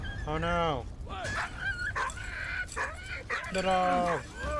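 Dog barking in the World War I video game Valiant Hearts: The Great War, several bright yelps and barks mixed with game sound and a voice, loud and close.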